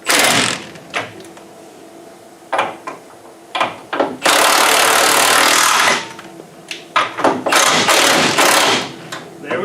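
A power tool runs down nuts on a control arm and ball joint assembly, short whirring bursts alternating with one long sustained run, loud and close, with brief handling noises between.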